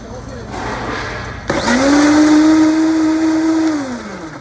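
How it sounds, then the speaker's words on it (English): A kitchen blender starts up after a quiet lead-in and whirs loudly at a steady pitch for about two seconds, blending banana, egg white and maple syrup, then winds down. "We're gonna blend it."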